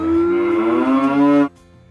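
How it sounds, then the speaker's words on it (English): A single long cow moo, loud and close, sustained for about a second and a half before cutting off to near quiet. "Cows"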